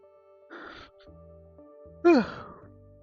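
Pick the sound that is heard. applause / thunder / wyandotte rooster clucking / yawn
yawn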